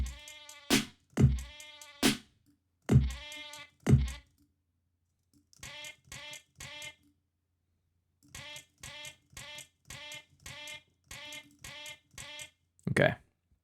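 A goat bleat sample is played in short repeated bursts in a studio session, first loud and spaced, then quicker rows of quieter bleats with pauses, ending in one louder cry.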